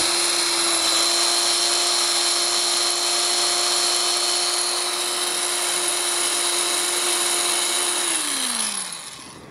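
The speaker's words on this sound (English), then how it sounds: "You're gonna drill a pilot hole right in the middle." A power drill fitted with a 1/4 inch bit bores a pilot hole through the top of a plastic bottle, giving a steady, close whine that holds for about eight seconds, then winds down as the motor stops.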